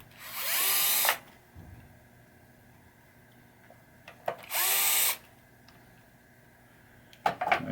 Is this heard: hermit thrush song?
no